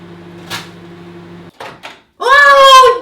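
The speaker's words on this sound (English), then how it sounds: "Gonna pop it in the microwave for 2 minutes only." Gingerbread mug cake placed into a microwave, a soft clunk and door closing with a couple of short knocks, followed by a loud electronic beeping tone as it starts.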